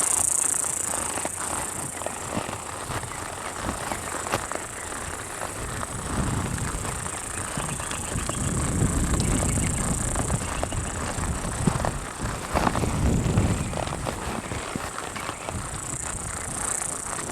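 Horse hooves clip-clop at a slow walk while a saddle horse ponies a two-year-old colt outdoors, steady footfalls growing heavier midway, with faint background noise and no talking.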